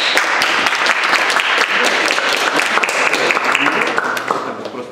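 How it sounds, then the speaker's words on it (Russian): Audience clapping at a poetry reading, close and fairly loud, with many hands producing a busy, even patter that eases off toward the end, with a voice faintly mixed in. "Аплодисменты."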